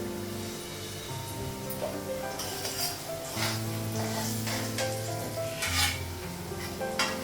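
Steady sizzling of potatoes frying in a pan, with a spoon scraping and clinking against the metal now and then.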